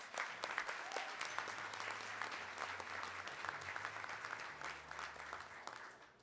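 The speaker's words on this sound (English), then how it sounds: "Let's give him another round of applause." Quiet but sustained applause from an audience at a civil rights champions awards event, many hands clapping steadily with a faint low hum beneath, fading slightly at the close.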